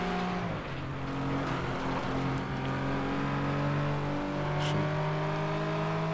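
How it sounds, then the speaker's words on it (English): Honda CRX engine in the racing game FlatOut 2 holding a steady, buzzy drone, its pitch rising gently through the gears, with other racing cars humming in the mix. "That CRX now, actually, listening to it does sound, I mean, not great, but it sounds better than I remember."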